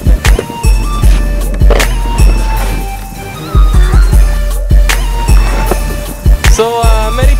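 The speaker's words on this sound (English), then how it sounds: "you do a front side big spin hill flip instead" Skateboard wheels roll and clatter on pavement with repeated sharp deck pops and landings during a frontside big spin heelflip, loud and close, no talk.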